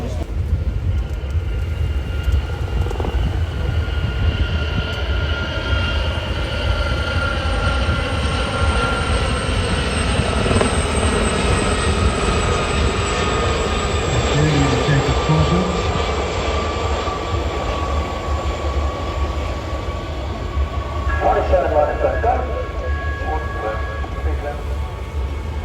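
Display team aircraft flying at the Ayr air show, a steady, loud engine drone with sustained whining tones running throughout, rumbling broadly without a break, with faint indistinct voices in the background.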